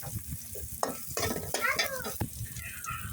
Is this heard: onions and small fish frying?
yes